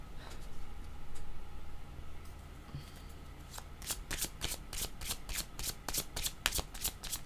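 Tarot cards are shuffled and drawn, starting with faint soft handling, then a quick run of crisp, riffling snaps and flicks close by, quiet overall.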